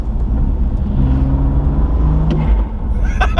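A BMW M2 Competition fitted with an Eventuri intake, heard as a loud, steady low engine drone from inside the car, with a faint rising whine and some light clicks near the end.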